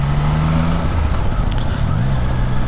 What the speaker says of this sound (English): This area has a lot of traffic.